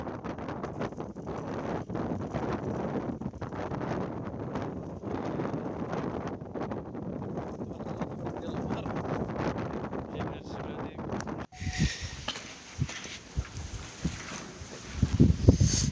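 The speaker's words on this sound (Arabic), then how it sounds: "شوف هذيك الشجره اللي موراها اش كيدير ليها الريح" Strong wind roars steadily into the microphone with heavy buffeting for most of the stretch, then drops to quieter gusts with scattered knocks and bumps.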